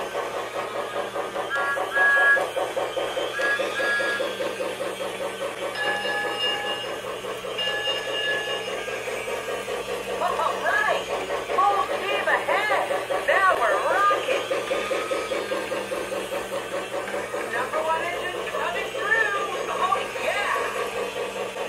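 A Lionel Thomas & Friends toy train set plays its sound effects: continuous rail-clatter and engine-like rumble with chirps and whistle tones, steady and close for over twenty seconds, with speech mixed in.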